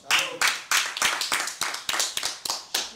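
A small group claps in a church worship setting, sharp close hand claps in an uneven, fairly quick rhythm of about ten strikes over a few seconds, with no talk over them.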